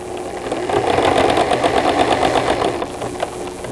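A sewing machine runs for about two and a half seconds, a fast dense mechanical whir with rhythmic knocking, stitching brown trim through two layers of upholstery fabric, close and loud, then stops.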